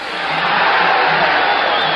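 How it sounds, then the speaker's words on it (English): A boxing crowd yells steadily and loudly at ringside, a dense wall of shouting voices during the 13th round of the Alexis Arguello vs Alfredo Escalera bout. "And the crowd yells now with every Escalera blow."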